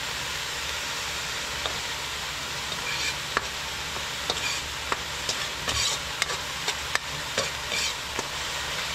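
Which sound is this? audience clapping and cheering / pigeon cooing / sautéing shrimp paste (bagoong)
sautéing shrimp paste (bagoong)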